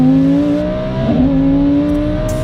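A Lamborghini Huracan accelerates hard with a loud, steady engine drone, then its 7-speed dual-clutch gearbox snaps through a quick paddle shift midway and the engine note carries on, close and without talk.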